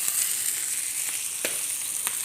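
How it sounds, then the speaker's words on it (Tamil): Fish frying outdoors on a dosa griddle (tawa), a steady close hiss of sizzling oil with a few faint clicks and taps. "இப்போ எங்கள் வீட்டுக்காரர் மீன் பொரிக்கிறாருங்க வெளியே."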